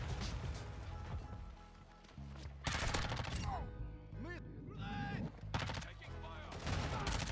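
Gunfire in Call of Duty: Modern Warfare II, a submachine gun firing repeated bursts over a busy, loud game mix with music and effects, several distinct clusters of shots across the stretch.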